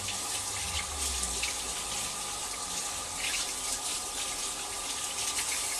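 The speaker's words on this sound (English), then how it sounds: "Let me just wash my hands." Hands are washed under a running kitchen tap, a steady close gush of water with splashing and rubbing throughout, without speech.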